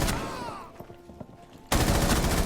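A light machine gun fires in Rainbow Six Siege Terrorist Hunt on the training grounds map, with a brief burst and scattered shots, then a sudden loud sustained stream of automatic fire at the end.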